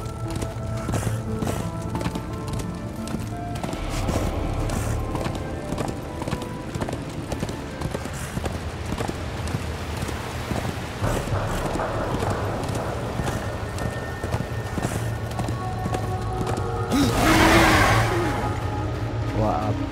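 Horse hooves clip-clop in the video game Darksiders 2, a steady galloping patter heard over game music and engine-like rumble, with a voice talking over it and a brief bright burst near the end.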